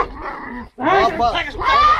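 Several sharp dog barks and yips come in quick bursts close by, mixed with people shouting over them.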